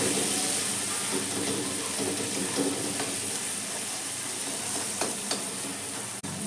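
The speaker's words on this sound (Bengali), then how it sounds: "এটাকে আমি আবার ভালো করে নেড়ে দেবো।" Dal with sambar masala stirred in a pan sizzles steadily throughout, a dense, even frying hiss close by, with a few faint scrapes and taps from the spoon.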